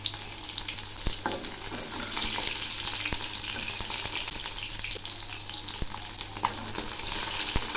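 Aar fish fries in hot oil in a home kitchen, a steady close sizzle and crackle with occasional sharp pops and light stirring clinks, heard alone without talk.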